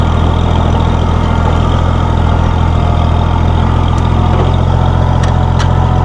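Steady, loud diesel-like rumble of a 1966 Oliver 1650 row crop tractor engine running at a constant idle, close by, with faint clicks of gear shifting through its power-shift transmission.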